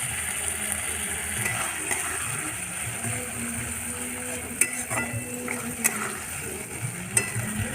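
Spice paste with cumin, chili, onion, tomato, fried ginger and garlic being stirred and sautéed in a pan, giving a steady low sizzle with occasional scraping clicks of the spoon against the pan.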